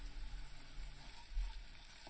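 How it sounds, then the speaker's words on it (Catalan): Finely chopped onion sizzling in olive oil that was started cold, a soft, steady frying hiss heard close up with no talking. "Posem a sofregir una ceba amb l'oli des de fred ben picada"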